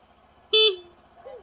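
A motorcycle horn gives one short, loud honk during a routine check of the horn and turn signals, followed by a faint rumble and a quieter tone.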